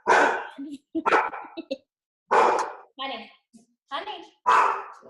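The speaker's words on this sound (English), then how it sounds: "that's my dog" A dog barks in several loud, close bursts, interleaved with a woman's speech in a home setting.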